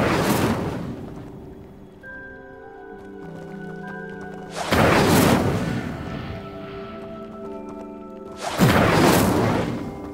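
The Incendio fire spell from Hogwarts Legacy goes off three times in bursts, each a sharp whooshing blast that fades out, spaced about four seconds apart over sustained background music.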